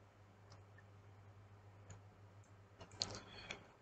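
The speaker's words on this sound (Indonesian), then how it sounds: "klik 2 kali" A computer mouse clicks faintly a few times, quick light ticks scattered over a quiet hum, with a tight cluster of clicks toward the end, during installation of Stata 17.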